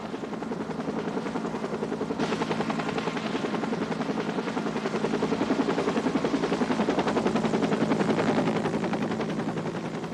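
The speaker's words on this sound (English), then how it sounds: "The life flight helicopter arrived from Portland in less than 15 minutes." A life flight medical helicopter from Portland arrives, its rotor chopping steadily and loudly throughout, building slightly as it draws nearer, with no voices over it.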